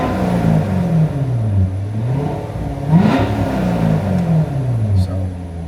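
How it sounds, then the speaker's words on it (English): A Chevy truck on its stock exhaust revs repeatedly, the engine rising and falling in several swells with one sharper peak, close by and loud while someone talks over it. "when I hit that gas, the exhaust gonna sound real good"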